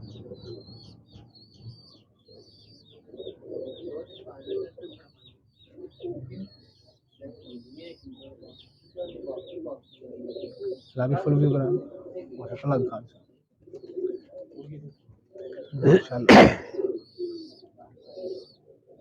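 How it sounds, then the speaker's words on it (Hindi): Ferozpuri pigeons coo in repeated soft low bursts alongside faint chirps and a brief flutter near the end, with people talking close by between and over the calls. "ये फिरोजपुरी कबूतर है जी।"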